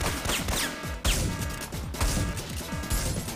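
Repeated explosions and bursts of gunfire in the video game Syphon Filter, dense and loud with sharp blasts and crashes close together across the whole stretch.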